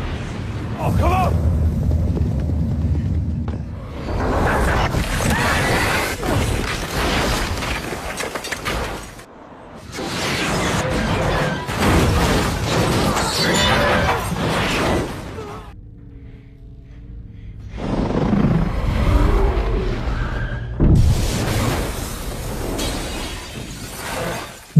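A massive nuclear bomb detonation in a zombie film, heard as a loud, sustained roaring blast with crackling, shattering debris and rumble lasting many seconds, broken by brief gaps, with dramatic film audio throughout.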